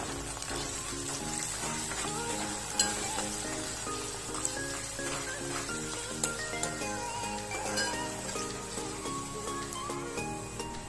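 Bitter gourd fry with onions and fresh coriander is stirred in a pan, giving a soft, steady sizzle with light scraping and clinks of the utensil throughout, fairly quiet and without speech.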